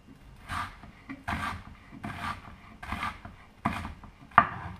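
A knife slices an onion on a cutting board in a steady rocking motion. Five or six soft, close cuts fall at regular intervals about a second apart, with no talking.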